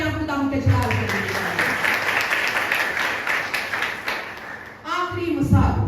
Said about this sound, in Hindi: आइए जोरदार तालियां खुदा के जलाल के लिए।